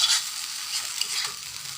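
Noodles with pepper for Korean street-food hotteok stirred and cooked in a pan, a brief bright sizzle with soft scraping of the utensil, near and steady, no voices.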